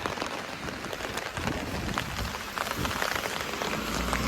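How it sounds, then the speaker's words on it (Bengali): Heavy rain pouring down on a street in Italy, a dense, continuous hiss of drops striking hard surfaces nearby, steady and loud throughout with no voices. "এই দেশে প্রচুর পরিমাণে বৃষ্টি পড়তে আছে"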